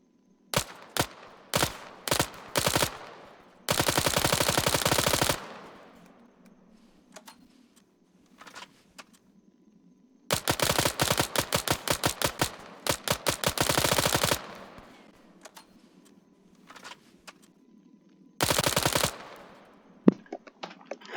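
Modded weapon gunfire in the military video game Arma 3, alternating single sharp shots with several long rapid automatic bursts separated by quiet gaps, crisp and close with no talking.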